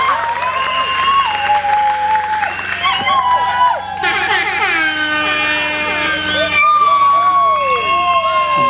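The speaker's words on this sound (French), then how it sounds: "Franchement, nous devons l'applaudir" An audience at an evening celebration applauds a mother being honoured, with clapping running under loud whistles, horn blasts and cheering, and a voice speaking over the noise.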